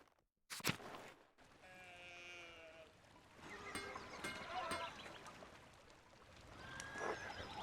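Sheep in the video game Pentiment bleat several times, a wavering close call followed by further bleats over a soft farmyard background, with a sharp knock near the start.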